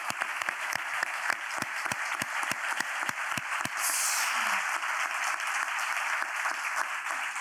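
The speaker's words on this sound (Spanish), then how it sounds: "un aplauso para los ponentes" An audience applauds the speakers, starting with a few loud, evenly spaced claps that quickly give way to steady, dense clapping carrying on to the end.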